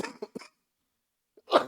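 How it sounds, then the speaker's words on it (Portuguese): A man coughs once, loud and close, after a few short vocal sounds and a long stretch of silence, in a quiet indoor setting during a Bible study talk. "vocês vão ter que me aturar hoje aí, tossindo um pouco."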